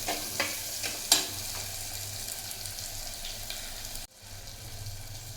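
Crushed onion, cut green chillies and crushed garlic sizzle and fry steadily in a pan for a village-style fish curry, with a few sharp stir clatters early on and a brief dip near the end.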